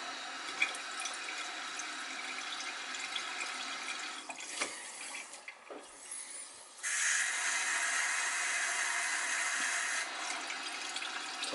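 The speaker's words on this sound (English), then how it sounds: "Running hot water down there," Hot water runs from a bathroom sink faucet and drains away, a steady close hiss that breaks off briefly midway and then resumes louder and brighter, with no talking.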